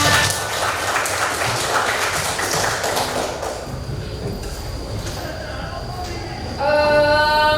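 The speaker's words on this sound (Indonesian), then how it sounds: "Tepuk tangan untuk kita semua" Students in a vocational school classroom clap together, a loud burst of applause that fades after a few seconds, followed by quieter room noise and a tonal sound at the end.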